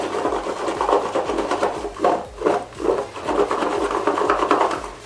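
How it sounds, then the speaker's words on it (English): Pumpkin pieces tossed with a little oil are shaken in a container, giving a steady rattling, scraping rush with rhythmic surges, close and fairly loud, with no talking. "And then go in with a little bit of oil. And then shake everything."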